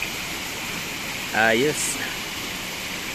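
Water running from a city water tap at Iligan City Hall, a steady close rushing hiss throughout, with a brief spoken word from a person partway through.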